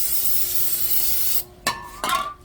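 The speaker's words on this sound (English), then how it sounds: "Use your brake cleaner." Brake cleaner aerosol sprayed onto the rear brakes of a Volkswagen Jetta during a pad and rotor change, a loud continuous hiss that stops abruptly, followed by two short clattering knocks.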